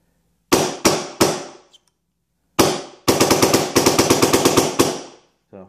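Automag paintball marker fitted with an Angel frame firing: three quick single shots, a pause, then a fast rapid-fire string of about fifteen sharp cracks, loud and close with no talking.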